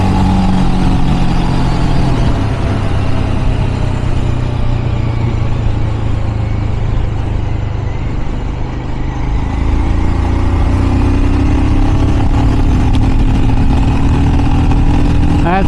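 A 2024 Royal Enfield Scram 411 single-cylinder motorcycle runs pinned in fourth gear at about 60 mph, its engine droning steadily and loudly from start to finish, mixed with rushing wind, with no voices heard.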